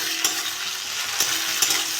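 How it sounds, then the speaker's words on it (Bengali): Onions fry in fish oil in a pan with a close, continuous sizzle, broken by a few sharp scrapes of stirring. "পেঁয়াজটা একটু ভেজে নিয়েছি"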